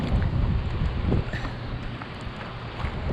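Strong wind gusting and buffeting the microphone on a river while kayaking, a loud, continuous roar with bursts of rumble and possible water splashing underneath.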